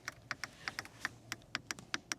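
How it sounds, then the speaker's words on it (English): Crisp plastic clicks from control switches in a Mercedes-AMG GLE 63 S being pressed, about a dozen in an uneven rhythm, close and fairly quiet with no talking. "also once again with nice clicking sounds"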